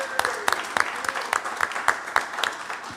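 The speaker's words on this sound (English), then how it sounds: "How about one more round of applause for Jefferson Thomas" Live audience applauding for Jefferson Thomas at a bluegrass radio show, a steady wash of clapping with distinct individual claps standing out near the microphone.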